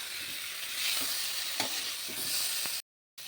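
Cumin, green chilli, salt and turmeric frying in a pan, a steady sizzling hiss with a few soft scraping stirs of a spoon, close and quiet, ending in a brief cut to silence.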